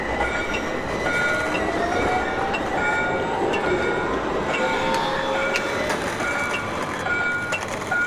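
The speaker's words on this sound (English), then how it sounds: "Wow. Another tram." Tram rolling past on rails in a Gothenburg street, a continuous rumble with rhythmic clicks and a rising metallic wheel squeal, steady and moderately close for about eight seconds, with no talking over it.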